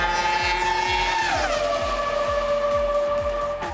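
A high-revving V10 Formula 1 race car engine screams steadily and loudly at close range, its pitch dipping briefly as it shifts or lifts and then holding a sustained howl throughout.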